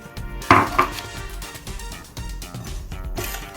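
Eggs being beaten bit by bit into a creamed butter mixture for a cherry and pineapple cake, with clattering knocks of a utensil against the mixing bowl, loudest early on, then softer steady scraping.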